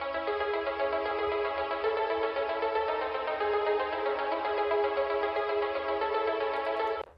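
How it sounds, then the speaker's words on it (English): Arpeggiated pluck synth patch built in FL Studio for a beat, a steady, loud run of bright, tightly stacked notes playing continuously for about seven seconds before cutting off abruptly, with no voices. "So now it sounds like this."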